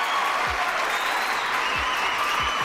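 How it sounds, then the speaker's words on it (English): Applause from a small live group, a steady patter of clapping with a few low thumps scattered through it, continuous from start to finish. "Let me give a round of applause to y'all."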